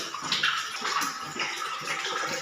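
Tap water gushes steadily into a container while sambal is being prepared in a home kitchen, a continuous near splashing hiss with no talk.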